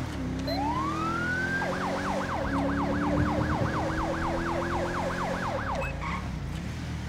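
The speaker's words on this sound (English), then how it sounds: "We don't need a siren out here." A police siren in the video game Grand Theft Auto 5 with the LSPDFR mod rises into a rapid, repeating wail, loud and close, cycling steadily for several seconds over a low engine drone.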